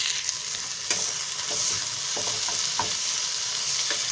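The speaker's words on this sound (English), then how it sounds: "now I am adding these vegetables into this oil" Vegetables frying in heated oil, a steady bright sizzle with occasional soft stirring knocks and scrapes, close and continuous throughout.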